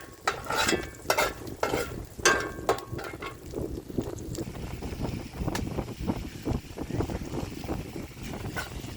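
Onions frying in a pan with steady sizzling and repeated scraping and stirring clatter, close and fairly loud, continuing without a break.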